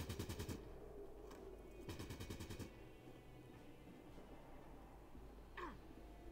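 Bursts of automatic gunfire in the video game Fallout Tactics, two loud rapid volleys of shots at the start and around two seconds, then a low rumbling background with a faint later crack.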